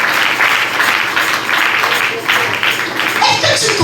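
A church congregation at a Sunday service applauds loudly, sustained clapping and cheering from the crowd filling the whole stretch, with a voice rising over it near the end.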